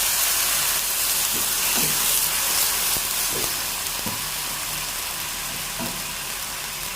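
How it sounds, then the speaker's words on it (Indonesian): Chopped garlic sautés in a pan with water added, giving a loud, steady sizzling hiss throughout, broken by a few soft stirring knocks and scrapes, with no talk. "Dan di sini untuk bawang putih yang saya cincang, saya tumis. Nah, ini akan saya kasih air."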